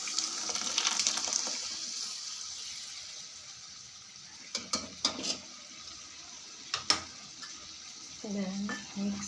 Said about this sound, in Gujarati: દાળને મિક્સ કરી દઈશું.